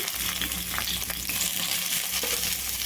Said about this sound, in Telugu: రెండు మీడియం సైజులో ఉన్న ఉల్లిపాయలను అయితే వేయించుకోవాలండి